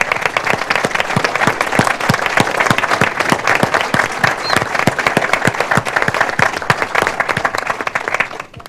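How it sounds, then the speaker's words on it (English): A town hall crowd applauds the state legislators, with dense, steady clapping that stays loud for several seconds and then starts to thin at the end. "if we could give them a round of applause"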